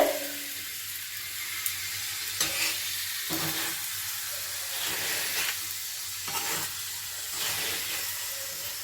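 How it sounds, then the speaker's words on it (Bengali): Potato paratha frying in a pan gives a steady close sizzle and hiss, with several louder bursts where the flatbread is turned or pressed. No voices are heard. "আমি একদম লাল লাল করে সুন্দর করে পরোটাটা ভেজে নেব।"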